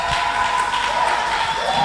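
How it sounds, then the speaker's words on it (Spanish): A church congregation applauding together, a continuous wash of clapping hands with crowd murmur and a voice speaking over it. "Un aplauso"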